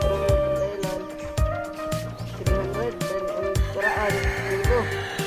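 Chickens on a farm clucking and calling near the microphone, irregular bursts over steady background noise, with people talking in between.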